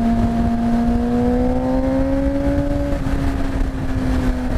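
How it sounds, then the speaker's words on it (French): A Yamaha MT-07 motorcycle with an aftermarket exhaust revs up with a rising, throaty tone that holds and then eases slightly, loud and close with steady wind noise around it. "c'est un pot qui a été fait exprès pour la MT-07"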